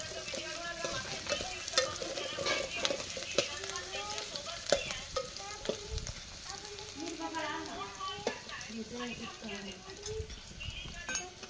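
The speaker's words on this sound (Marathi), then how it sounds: "हा कांदा पूर्ण लालसर म्हणजे पडसपर्यंत आपण भाजणार आहोत नंतर टाकतो लसूण टाकतोय" Crushed garlic fries with onions browning in a pan, with a continuous close sizzle and stirring scrapes, while a person talks over it.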